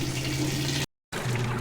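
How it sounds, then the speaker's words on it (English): Steady rushing water from a Whirlpool washer filling or spraying during its rinse cycle, a continuous close wash broken by one brief silent gap. "So it's finally started the rinse cycle, or the spin, was it? Yeah, the rinse. So it's kind of rinsing everything."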